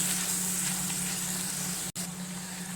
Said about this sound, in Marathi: आता हे छान अगदी 2 मिनटं आपण हे परतून घेऊया